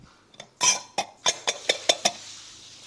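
A coffee tin lid struck about eight times in an irregular, quickening series of sharp metallic taps, close and clear against a quiet kitchen.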